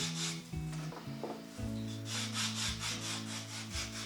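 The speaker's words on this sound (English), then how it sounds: "Here I'm using the coarse end of the foot file." Rough rhythmic rasping as the coarse side of a foot file is rubbed back and forth over dry skin on a foot, close and steady, with a soft tonal hum underneath.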